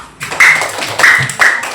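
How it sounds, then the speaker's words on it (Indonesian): A classroom group of students clapping hands together, dense broadband bursts in three waves over under two seconds, fairly loud and close with no talk over it. "Tepuk tangan ya."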